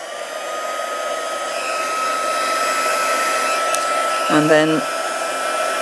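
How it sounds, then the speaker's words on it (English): Heat gun blows with a steady, close, whooshing hiss while warming embossing powder on a tag, with a brief spoken phrase over the noise near the end. "so warning, heat gun noises."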